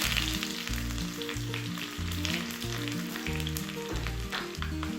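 Shallot, mustard seeds, dried red chilli and curry leaves tempering in hot coconut oil, a continuous bright sizzle with a pulsing low hum underneath.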